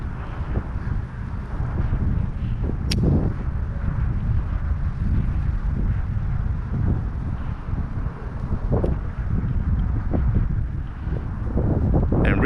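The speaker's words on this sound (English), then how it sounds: "The wind's pushing me." Wind blowing across a kayak on the water during bass fishing, a loud, steady rumbling buffet on the microphone with a few brief knocks and clicks.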